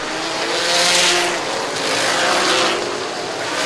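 Race cars circle a small short oval in a 500-lap event, their engines roaring loud and close as they sweep past in two swelling passes, with no voices over the steady high drone.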